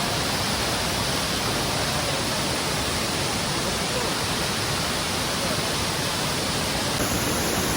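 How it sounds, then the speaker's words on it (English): Huai Kaeo Waterfall in Chiang Rai, Thailand roars as a steady, loud wash of falling water, broadband and unbroken throughout with no voices. "There's 2 waterfalls. This is the first one."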